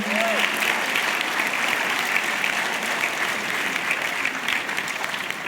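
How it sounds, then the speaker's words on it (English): A large room erupts in a sustained round of applause at a multicultural apprenticeship awards ceremony, dense steady clapping from many hands that carries loudly through the whole stretch without a break. "So, a huge round of applause to Saf."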